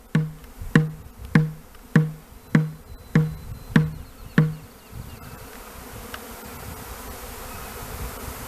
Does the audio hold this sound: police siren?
no